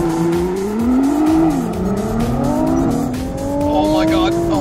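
A Tesla electric car launches hard at an electric kart outing, its rising motor whine climbing steadily in pitch with faint tire noise, loud and close, as excited voices talk over it.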